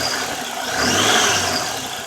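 Car engine fitted with a preoiler, revved with a little throttle, rising to a peak and easing back down over two seconds, loud and close with no talk.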